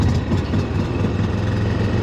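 Steady low rumble of a propane/natural gas standby generator engine idling, a continuous droning hum close by with no talk over it.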